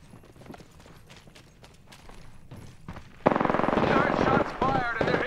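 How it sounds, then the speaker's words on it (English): Gunfire in the video game Apex Legends: a rapid burst of loud, sharp shots breaks out midway and continues to the end, with softer scattered shots and game sounds beforehand. "Shots fired and they're hitting me"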